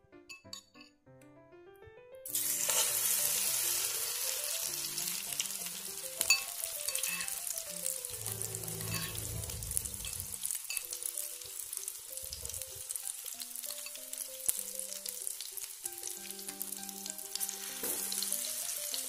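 Mendoan tempeh fritters dropped into hot oil burst into a loud, sustained bubbling sizzle after a quiet start, with clinks of a utensil against the pan scattered throughout.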